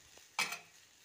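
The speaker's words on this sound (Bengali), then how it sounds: "দেখো কেমন ভাজা হচ্ছে।" A vegetable chhechki is dry-fried and stirred in a pan, giving one short scraping, sizzling stir that is close and fairly loud before fading back to a quiet background.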